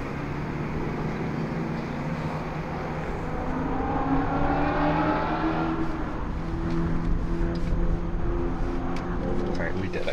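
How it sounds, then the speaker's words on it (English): A dense, continuous roar of race car engines droning and revving in the distance at the Daytona 500, with crowd noise and voices mixed in. "Rev your engines."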